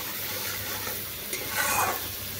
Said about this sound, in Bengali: মশলাটিকে আমি বেশ ভালোভাবে কষিয়ে নিচ্ছি